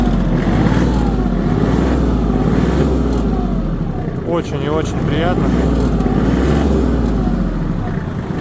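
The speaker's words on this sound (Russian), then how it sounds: "Работает трактор." Engine of a Kubota GT19 Japanese mini tractor, still cold, running with a steady low rumble and a brief rev in the middle, while someone speaks over it.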